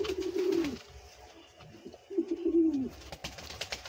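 A pair of pouter pigeons coo close by in two deep, throaty bursts separated by a short pause, with faint background rustling.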